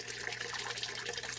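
Water flowing and churning in a DIY aquaponic fish tank system, a steady, even wash of splashing and bubbling close by that runs without a break.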